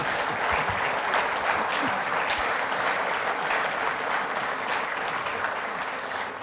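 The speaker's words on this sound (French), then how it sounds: "Vous pouvez applaudir." Dense, sustained applause fills a business conference hall for Réseau Entreprendre Haute-Savoie, steady and loud from a large audience, tapering slightly at the close.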